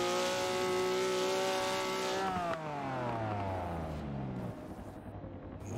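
A race car engine in a sim racing game on the Nurburg GP circuit revs high, then its pitch drops sharply through gear changes and deceleration, loud and close, with faint tire noise.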